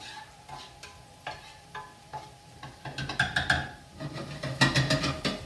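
Migas mixture is stirred in a lightly oiled pan, with intermittent scraping and clinking strokes over a soft sizzle that grows louder and busier toward the end.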